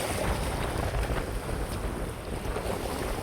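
Strong wind buffets the microphone in loud, continuous gusts during outdoor fishing, with water noise underneath.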